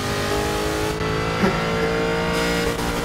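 Engine revving under sustained throttle in Forza Motorsport 6, a BMW M4, Lexus RC F and Cadillac CTS in a racing game, loud and continuous for about three seconds with steady harmonic tones and a brief blip midway.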